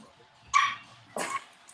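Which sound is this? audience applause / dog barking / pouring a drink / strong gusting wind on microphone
dog barking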